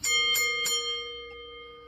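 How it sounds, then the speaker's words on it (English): A bell rings three quick times in succession, a bright metallic strike each, then its tone hangs and fades away with no talking. "All right, ringing the bell."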